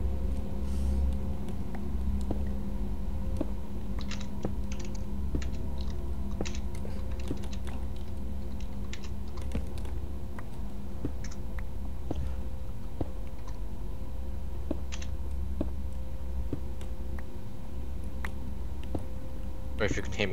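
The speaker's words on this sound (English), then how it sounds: "If you can hear me typing, my keyboard's really loud." Rapid keyboard clatter runs throughout, loud and close, with scattered sharp key strikes over a constant low hum.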